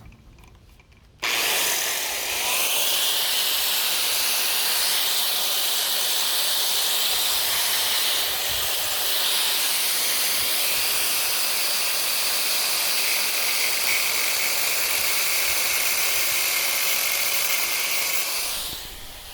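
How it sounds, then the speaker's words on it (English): Cutoff wheel grinder slicing through metal on a 1977 C3 Corvette lower control arm, starting abruptly and then holding a loud, continuous, bright hissing screech for nearly the whole stretch, close up and steady. "I'm just using a cutoff wheel"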